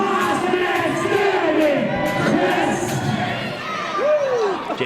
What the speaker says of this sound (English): leading the crowd in that chant